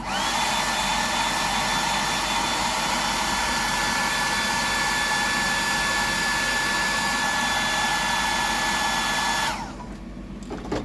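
A dryer blows a steady, loud whooshing stream of air over fresh paint on a bibless fishing lure, running continuously at close range before cutting off near the end.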